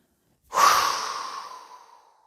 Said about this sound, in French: vous allez expulser en soufflant très fort par la bouche